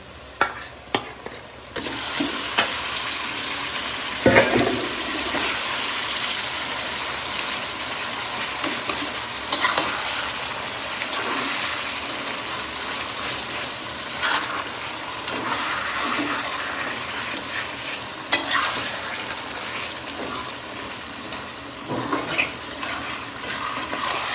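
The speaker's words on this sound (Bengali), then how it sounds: "এবার মাংসটা দিয়ে দেবো" Mutton goes into a pan and fries with a steady loud sizzle while a utensil scrapes and stirs through it repeatedly, clattering now and then, with no talking.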